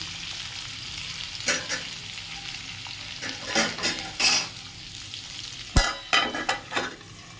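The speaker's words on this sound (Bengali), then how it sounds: "আলুগুলোকে নাড়াচাড়া করে নিয়েছি" Potato pieces fry in a pan while being turned over with a utensil, a loud sizzle punctuated by repeated scraping and clattering strokes and one sharp knock.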